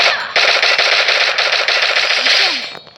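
A beatboxer's voice imitates Free Fire sniper and automatic gunfire, a loud, dense rapid burst of mouth-made shots running nearly three seconds before trailing off.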